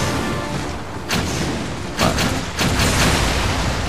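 Gunfire in the video game Jak 3 comes as dense, rapid bursts of shots and booming impacts that run continuously, loud and close, with one brief spoken word.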